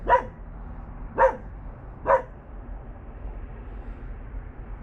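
Three evenly spaced dog barks ring out in quick succession as dogs react to liquid soda, then quiet background noise continues.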